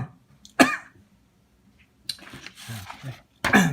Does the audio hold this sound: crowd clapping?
no